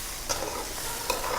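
Grated coconut dry-roasting in a pan for a Kerala-style roasted-and-ground yam curry, giving a soft, steady sizzle with two sharp scrapes of stirring, close by and with no talk.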